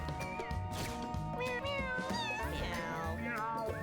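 Several cartoon cats in Mewgenics meow over and over, overlapping calls with rising and falling pitch, close and continuous over game music.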